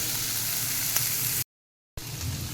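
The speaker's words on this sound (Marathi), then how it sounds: "त्याच्यामध्ये ढबू मिरची घालून ती सुद्धा परतून घेऊयात" Onion and capsicum sautéing in a pan, a continuous close sizzle that cuts out briefly and then resumes, with no voices.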